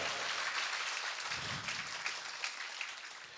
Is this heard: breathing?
no